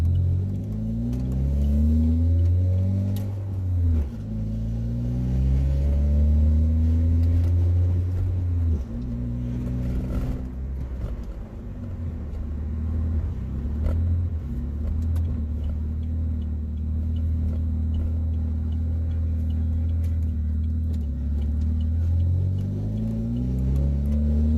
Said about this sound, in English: the clutch does not sound good though